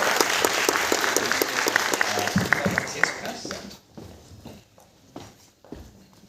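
Audience applause welcoming Lisa Joy onstage at a MAMI masterclass, steady dense clapping from a crowd that fades out after a few seconds, with some voices underneath.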